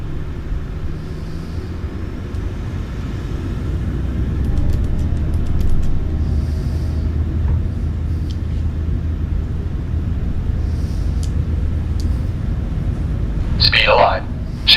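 Aircraft engines roaring at takeoff power during the takeoff roll, a steady loud broadband rumble heard from inside the cockpit that swells slightly, with crew voices speaking briefly over it.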